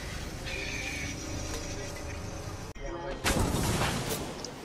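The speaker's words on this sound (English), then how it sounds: "Oh, they're shooting. Yeah, they're shooting." Gunfire in a video game, a sharp burst of shots breaking out near the end amid constant game noise, with players talking over it.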